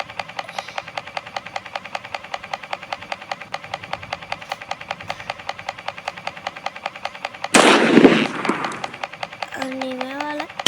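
Repeated video-game gunfire in Granny 2 as a steady, rapid stream of evenly spaced shots, then one louder, harsher burst near the end followed by a short tonal game sound.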